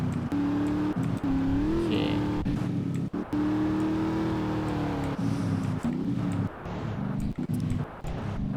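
A car engine drives steadily in GTA San Andreas, its loud, sustained hum rising and falling with throttle, briefly revving, with short dips and possible tire noise.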